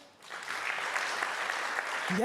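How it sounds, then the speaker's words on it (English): An audience at a science week panel on capacity sharing breaks into steady applause that fills almost the whole stretch. A voice cuts in briefly at the very end. "Huge round of applause for her."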